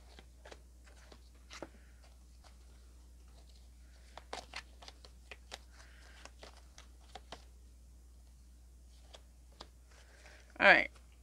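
A tarot deck being shuffled by hand, giving scattered soft card clicks and riffles at close range, then one louder burst of card noise near the end.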